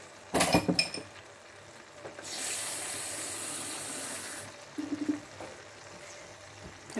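A few clinking taps of a glass or utensil, then a couple of seconds of steady hissing splash as water is poured into a chicken and vegetable tagine, followed by quieter clinks and a soft sizzle.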